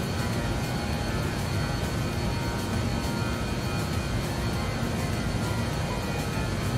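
A BA 146-300 airliner in DHL livery in Microsoft Flight Simulator, flying from Indonesia to Timor, gives a steady, loud, unbroken jet engine drone with no talking.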